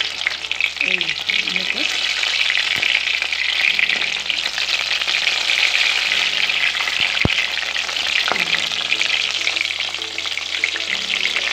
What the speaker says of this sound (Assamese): এতিয়া মই ইয়াত তেলত দিলোঁ, চাওক কেনেকৈ ভজা হৈ ভাজি আছে।